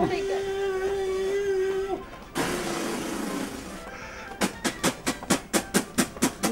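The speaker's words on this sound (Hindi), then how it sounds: "फिर वो इंजन आया, उसके पीछे बोगियां बांधी, फिर वो इंजन चला।" A train engine with coupled carriages starts off at a railway station: a drawn-out wailing horn tone, a burst of hissing, then a quickening run of sharp rhythmic clacks.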